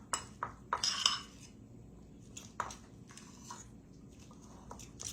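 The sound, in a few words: mixing deviled egg filling with back of fork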